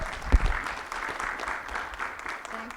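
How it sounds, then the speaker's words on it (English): An audience applauds panelists at a data science initiative event, a dense sustained wash of clapping with a thump near the start and faint voices underneath. "Give a round of applause for our amazing panelists."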